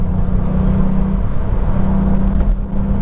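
A Volkswagen up! GTI drives along with a steady, close engine hum and road rumble that holds constant throughout with no speech.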